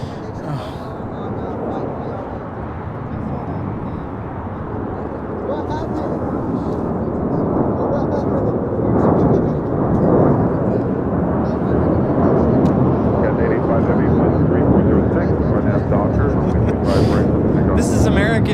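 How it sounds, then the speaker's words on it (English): An American Airlines A321 takes off from LAX bound for JFK, a loud broad engine roar that swells and thickens as thrust builds, with voices talking over it. "This is American Airlines Flight 32 taking off to JFK on an A321"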